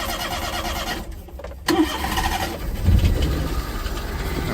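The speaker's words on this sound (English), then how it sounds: "We'll start the truck up because we need vacuum for the system to work." A Daihatsu Hijet S110P mini truck engine turns over and catches, then settles into a steady, close idle with a low rumble.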